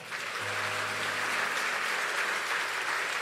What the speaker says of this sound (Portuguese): Isso merece uma salva de palmas.